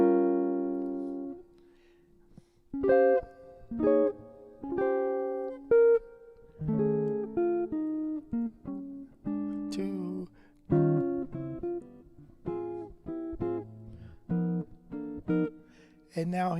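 Solo jazz guitar plays four bars of a tune, a clear close-up run of plucked chords and single notes in a steady phrased rhythm, each note ringing briefly before the next, with short gaps between phrases.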